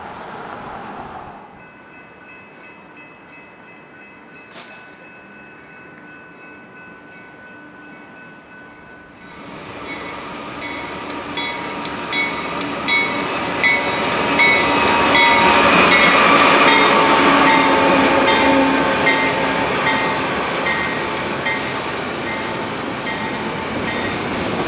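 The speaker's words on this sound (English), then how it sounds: "A lower priority port stack train behind BNSF 4393 will serve as the first freight train" A BNSF port stack freight train, a lower-priority intermodal on a busy main line, rolls past: after about nine seconds of near quiet with a distant faint tone, a loud broadband roar of cars and wheels builds, peaks close by and holds steady to the end.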